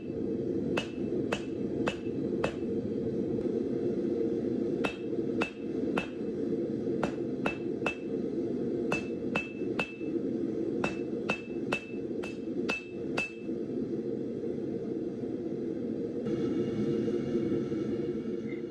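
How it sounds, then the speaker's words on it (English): Hammer strikes on hot rebar at an anvil, forging the end into a rectangle for tongs jaws, sharp ringing blows in quick groups of two to four over steady forge roar, then only the roar. "I'm going to start by forging the end of the rebar into a rectangle."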